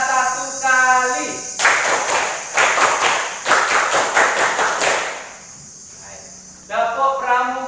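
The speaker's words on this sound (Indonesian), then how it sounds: "Tepuk pramuka 1 kali." A classroom of students performs the Pramuka scout clap pattern once, in sharp rhythmic bursts of clapping grouped into a patterned sequence. A voice speaks before the claps and again after them.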